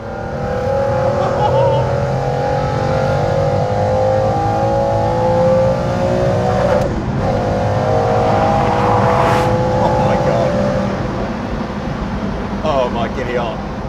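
A powerful car engine revs up and drops back repeatedly, loud and close, with a strained, rising whine between blips.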